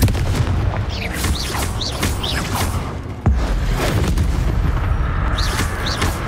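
Confringo fire spell blasts in the Hogwarts Legacy game, a dense run of booming explosive impacts and whooshes layered over loud continuous combat noise, with a heavy thud midway.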